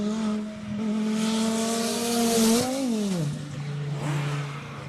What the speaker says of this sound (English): Normally aspirated 6-cylinder, sounding spectacular.